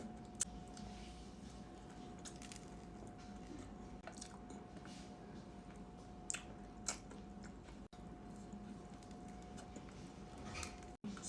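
Quiet, close-up chewing of a Dunkin' choco butternut doughnut with soft squishy bites and occasional small clicks over a low background hum.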